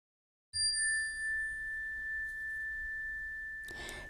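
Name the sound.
bell ringing to end walking meditation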